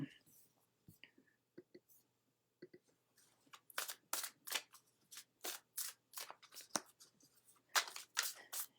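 Oracle cards being shuffled by hand, heard close as a run of crisp, papery riffling bursts that start sparse and grow into quick, dense flurries, with a soft murmur in the quiet gaps.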